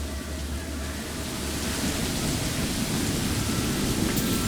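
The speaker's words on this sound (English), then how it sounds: "Why is it always raining?" Rain and rumbling thunder in the video game Skyrim form a steady hiss of rainfall, broad and constant, with a low rumble building slightly toward the end and no voices.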